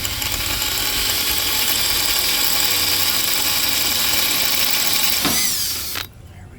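A drill bores out a broken head bolt on a Tecumseh engine, a loud, steady grinding whine with a ratcheting edge that dips briefly before cutting off abruptly.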